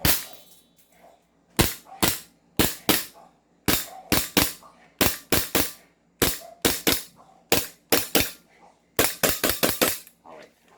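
An airsoft Glock 17 pistol fires about twenty sharp, loud, close snapping shots in uneven bursts of singles and quick doubles, with brief pauses between groups and no talk.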